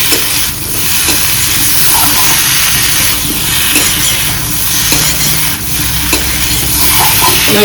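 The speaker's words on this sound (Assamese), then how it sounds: "বিলাহীখিনি দিছোঁ ইয়াকো মই ভালকৈ ভাজিব লাগিব" Tomatoes frying in a pan for chicken curry, a loud, close, continuous sizzle and hiss with faint stirring scrapes throughout.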